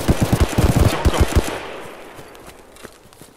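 Rapid bursts of automatic gunfire from Escape from Tarkov crack out loud and close for about a second and a half, then fall away into a quieter, echoing tail with scattered distant shots.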